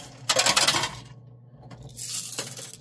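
Tokens tumble in a coin pusher arcade machine, two bursts of clinking, rattling metal cascades separated by a short lull, close and bright.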